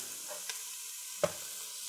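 Onions and potatoes go into a Ninja Foodi pot and start a faint sizzle. Two sharp knocks cut through the quiet background hiss, and no one speaks.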